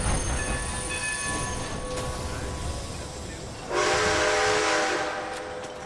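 A train passes in Red Dead Redemption 2, with a steady rumble and tonal whistle-like lines throughout and a broad, louder roar swelling in near the end, with no talk.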